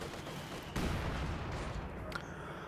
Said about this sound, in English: Second barrage comes in on top of these guards.